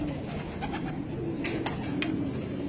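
Soft, repeated pigeon cooing close by, steady and low, with a few faint chirps over it and no talking.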